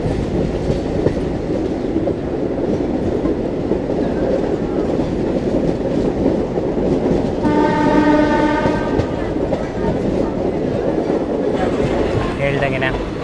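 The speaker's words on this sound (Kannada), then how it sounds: "ಚಾಮುಂಡಿ ಎಕ್ಸ್ಪ್ರೆಸ್ ತನ್ನ ICF ಅವತಾರದಲ್ಲಿ ಮೈಸೂರು ಕಡೆಗೆ ಹೊರಟಿದೆ" Chamundi Express with ICF coaches pulls out toward Mysuru, its steady rolling rumble and wheel clatter running throughout, with a loud train horn sounding around the middle and voices talking beneath.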